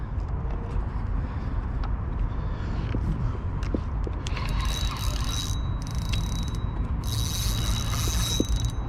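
A fishing reel's drag clicks in bursts as a carp pulls line at night on an urban river, a rapid ratcheting buzz over a steady rushing background, close to the rod.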